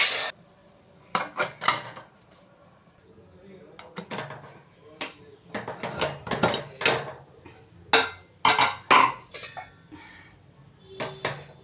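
A metal pressure cooker lid is fitted and closed over a bubbling pot of tomato bath, giving a string of sharp, close metallic clanks and clinks in irregular bursts with quieter gaps between.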